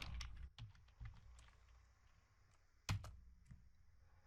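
A command is typed on a computer keyboard, a handful of light, irregular key clicks close up in a quiet room, with one sharper keystroke standing out near the end.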